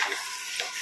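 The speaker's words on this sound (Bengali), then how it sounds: "আবারও ভালোভাবে নাড়িয়ে চাড়িয়ে নেব" Ash gourd being stirred in a pan, a brief soft hiss of frying with faint scraping, close by and without voices.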